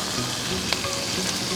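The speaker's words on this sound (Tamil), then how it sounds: "ஆயில் சூடான உடனே சிக்கனை ஆட் பண்ணுங்கள்." Pieces of chicken sizzle in about 15 ml of hot oil in a pan, a steady close crackle that holds evenly throughout, with one brief louder pop.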